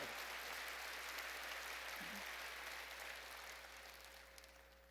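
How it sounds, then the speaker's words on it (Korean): A church congregation applauds during a Sunday sermon, a sustained, soft wash of many hands clapping that sounds distant and slowly fades toward the end. "박수로 하나님께 영광을 돌리시라"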